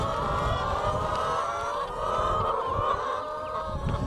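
A flock of backyard chickens clucks and squawks continuously at close range, a busy, layered chatter that stays loud without any pause.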